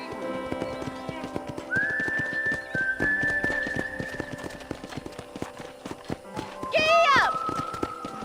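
Rhythmic hoofbeats of a horse galloping in the game Red Dead Redemption, steady and close, with a high whinny near the end.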